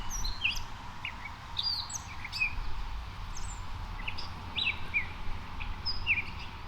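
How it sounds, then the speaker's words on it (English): Short, thin chirps and whistled calls of a Canada jay ring out repeatedly at moderate distance over a steady low rumble of wind or forest ambience. "The Canada jay is a year-round resident of North America's boreal and subalpine forests"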